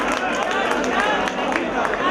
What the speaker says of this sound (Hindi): एक बार तालियां बजा दी अखिल भाई के जोरदार